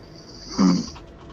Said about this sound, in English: That was a definite snore